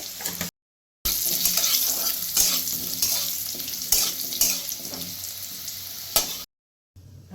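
Potato pieces frying in ghee in a pan with a little turmeric, a steady close sizzle broken by scraping stirs, heard alone with brief silent gaps at the start and end.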